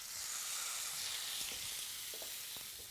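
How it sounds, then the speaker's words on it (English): Salmon fillet laid into a smoking-hot dry pan, giving a steady broadband sizzle that holds close and fairly loud throughout, with a few faint pops and ticks scattered through the hiss. "Hot pan, really, really smoking hot, and we're just going to lay our fish in there into a dry pan."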